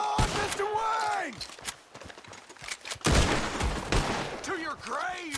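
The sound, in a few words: gunfire in the video game Red Dead Redemption 2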